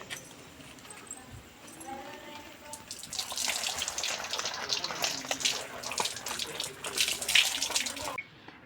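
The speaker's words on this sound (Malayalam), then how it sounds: "വെള്ളത്തിൽ ഒന്ന് കഴുകിയെടുക്കാം കേട്ടോ" Running water splashes steadily from a tap onto Crocs shoes being rinsed, starting after a few quiet seconds and stopping abruptly near the end.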